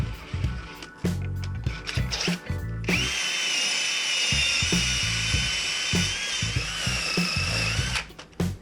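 A wire wheel spun by a drill scrubs the wheel studs of a Honda car, a loud whirring buzz with a scraping metallic edge that runs steadily for several seconds after a few short clunks and starts.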